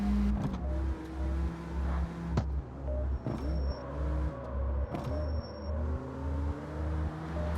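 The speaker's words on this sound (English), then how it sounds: "the engine and exhaust sounds are tied to the engine slider for the audio" Car engine and exhaust sounds from a racing video game, with rhythmic revving surges and repeated sharp exhaust pops and gear-change bursts, loud and close with no talking.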